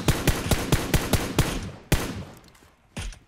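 Rapid bursts of gunfire in PUBG, a string of sharp evenly spaced shots followed by a pause, then a single louder shot and another after a gap, close and with no voices.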